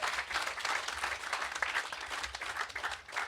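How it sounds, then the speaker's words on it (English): Audience at a Green Party gathering talk applauds steadily, a dense wash of clapping from a crowd that holds at an even level throughout without speech. "I've realized I've encouraged people now to applaud a heckle that happened last week."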